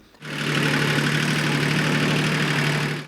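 A tractor engine starts up and then runs at a steady idle-like drone with a strong low hum, close and loud, on a training ground during driving manoeuvres.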